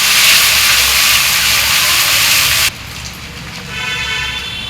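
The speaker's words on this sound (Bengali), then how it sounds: "লুচি ভাজছে।" Luchi frying in hot oil gives a loud, steady, close hiss that cuts off sharply partway, followed by quieter ongoing sizzling and background clatter.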